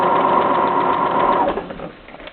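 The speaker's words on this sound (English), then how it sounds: "I'm just going to start shirring in a straight line." A sewing machine running a steady straight-line shirring stitch, its fast continuous whir holding even, then slowing and fading out near the end, close and alone.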